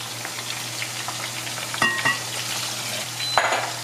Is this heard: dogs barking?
no